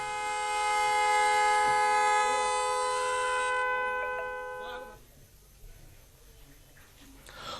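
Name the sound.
loud motorcycle horn blown by traffic police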